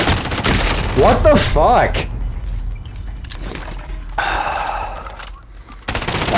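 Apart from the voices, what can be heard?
gunfire from player's gun in a video game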